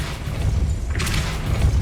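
A Depulso spell strikes in Hogwarts Legacy, a single low boom with a bright whooshing burst about a second in, over a rumbling game background.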